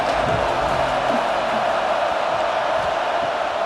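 A stadium crowd in EA Sports College Football keeps up a steady, moderate roar during a big third down, a broad continuous wash of noise with faint cheers.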